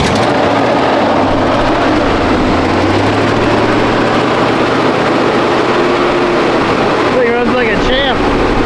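A 1979 Chevy Luv pickup idles with an exhaust leak, a loud, close, steady low rumble with a raspy chuff running throughout; brief voices cut in near the end.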